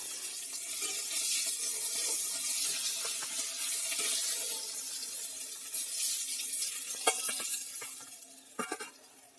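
Hilsa fish fried in hot oil gives a steady, bright sizzle throughout, with a few sharp clinks of a utensil near the end as the pieces are lifted out.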